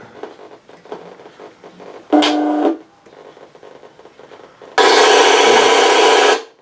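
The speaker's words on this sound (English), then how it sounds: "now for the secondary sounds, machine gun, that's on this pot." Machine gun effect from a sound unit in a Hetzer model tank, played at full volume through a TPA amplifier: two loud, dense bursts of sustained rattling noise, a short one followed by a longer one, with quieter clicking and handling noise between them.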